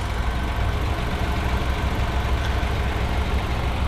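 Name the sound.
2022 Ford Escape S 1.5 liter 3-cylinder engine idling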